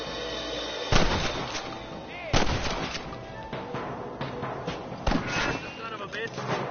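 Gunshots from the Red Dead Redemption video game crack out in a few loud, sharp bursts spaced through the stretch, mixed with in-game voices talking and a busy ambient background.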